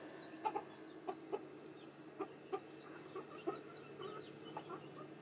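Chickens clucking in short, scattered bursts, with soft chirps and a steady low background hum; several birds calling at a moderate distance.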